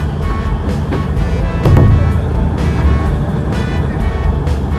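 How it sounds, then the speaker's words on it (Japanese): Fishing boat engine rumbling steadily as the boat pulls away from the purification facility toward the quay, loud and close with wind and water noise, a short louder surge partway through, no voices. "浄化施設から船をアスタンで出して岸壁へと発進。"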